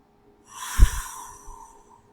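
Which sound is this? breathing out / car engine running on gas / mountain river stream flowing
breathing out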